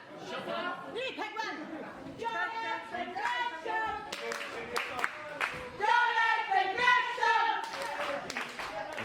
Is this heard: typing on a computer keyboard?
no